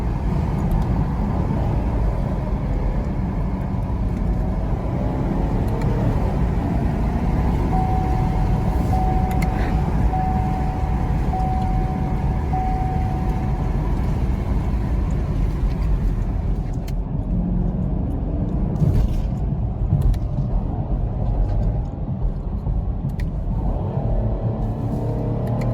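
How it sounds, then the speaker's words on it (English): A 2019 Chevrolet Camaro SS V8 exhaust rumbles steadily from inside the cabin during a downshift, a deep continuous drone with road noise, loud and unbroken throughout. "This ain't nothing but the downshift."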